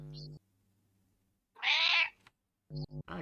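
A person imitates a cat's meow during a tabletop role-playing game session, producing one drawn-out, nasal meow between stretches of nearby talk.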